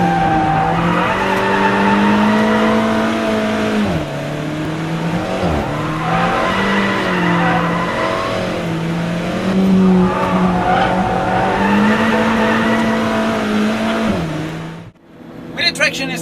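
An Alfa Romeo 4C with traction and stability control switched off slides around track corners. Its engine drones and rises in pitch while the tires squeal steadily through long drifts, loud and close, before a brief lift near the end.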